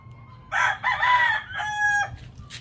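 A rooster crows loudly nearby in one long, wavering call, close and clear over faint background noise.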